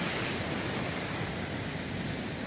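Large sea waves breaking on a beach under a dark, cloudy sky, a dense and steady roaring wash of surf that stays loud and unbroken throughout, with no voices.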